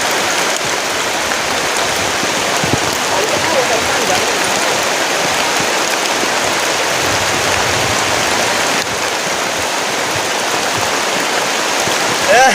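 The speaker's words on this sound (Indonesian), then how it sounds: "Ini hujannya deras banget teman-teman." Heavy rain pours down in a thunderstorm at a campsite, a dense, steady roar of drops that stays loud and close throughout with no breaks.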